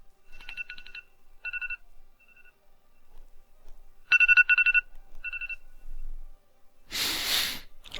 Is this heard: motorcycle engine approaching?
no